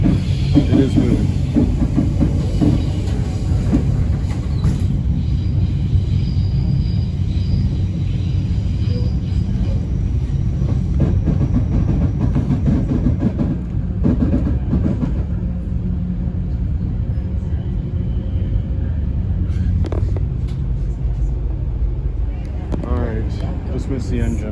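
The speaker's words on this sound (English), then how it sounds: "I think this is the same train from Mission, BC." Via Rail passenger train passing on the line between Jasper and Kamloops, a loud steady rumble and rattle of cars going by close, continuous throughout with people talking over it.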